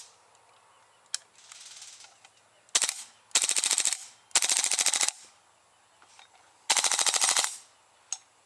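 A KWA AKG KCR airsoft gas blowback rifle fires several rapid bursts, sharp snappy full-auto rattles in short strings separated by brief pauses, with a couple of isolated single shots and quiet handling noise between.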